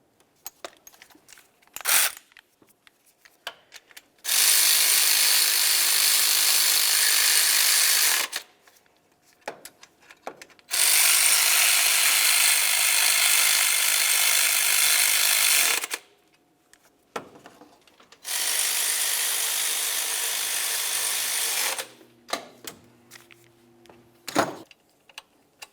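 Water pump bolts on a Volkswagen Jetta tightened with a power tool, three long, loud whirring runs of several seconds each, separated by short clicks and clinks of metal.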